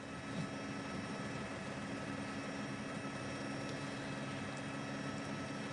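Helicopter hovering over a road cycling race, its steady broadband rotor and turbine roar constant and fairly loud throughout with no talk.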